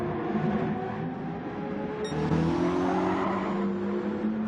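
Gran Turismo 7 race cars lap Fuji Speedway, an engine droning steadily and loud, its pitch rising as the car accelerates, with a faint tyre squeal. No one speaks.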